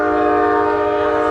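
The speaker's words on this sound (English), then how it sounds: "That's a horn, that's not a whistle." Loud, steady Amtrak train horn blaring on one sustained multi-tone chord, close by and unbroken throughout, with no talking.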